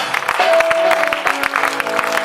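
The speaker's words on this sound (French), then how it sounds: "Acclame très fort le Seigneur des Seigneurs." A church congregation at a worship service applauds and cheers, dense rhythmic clapping close and loud with a sustained tone running under it.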